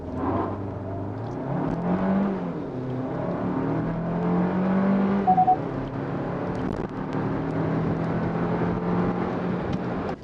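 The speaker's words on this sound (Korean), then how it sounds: "가속 초반에 휠슬립이 살짝 일어나고요, 앞바퀴가 살짝 돌고 구동력을 회복하면서 빠르게 가속을 이어가죠" A Hyundai Tucson 1.6T with 180 hp accelerates hard from a standstill, its front wheels briefly slipping. The engine note climbs steadily through several gear changes, heard from inside the car at a moderate level.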